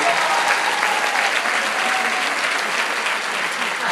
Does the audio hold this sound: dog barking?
no